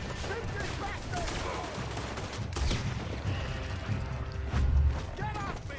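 Gunfire in the Red Dead Redemption 2 video game, a loud close fusillade of shots with a few heavier booms and shouting voices amid the chaos.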